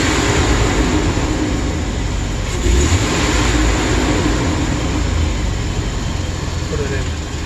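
Engine of a 2008 Chevrolet Express van with a misfire and fuel system fault, a loud, continuous low drone heard close up with a brief surge partway through, while a voice speaks over it.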